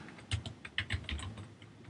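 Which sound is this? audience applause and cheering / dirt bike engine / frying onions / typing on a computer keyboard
typing on a computer keyboard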